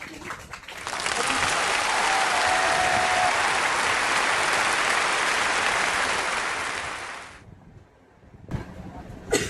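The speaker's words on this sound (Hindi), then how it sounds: "जोरदार तालियां लक्ष्मी के लिए एक बार।" A crowd at an award ceremony for nursing students breaks into loud, sustained applause that swells quickly, holds steady for about six seconds, then fades out, followed by a brief quieter pause.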